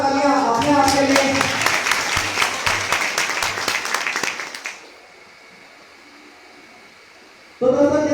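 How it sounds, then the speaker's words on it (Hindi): A seminar audience breaks into loud sustained applause, dense rapid clapping from many hands for about four seconds before fading into quiet room tone, then a sudden return of sound at the end. "तो एक बार जोरदार तालियां अपने आप के लिए।"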